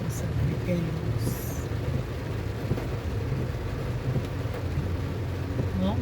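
A rain shower falling over a cassava planting plot, a steady broadband hiss that does not let up, with voices talking under it.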